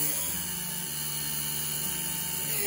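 Small Taig hobby CNC mill spindle spinning at 9,000 RPM while cutting a heatsink, a steady close whine with a faint dip in pitch as the motor loads, then a quick recovery.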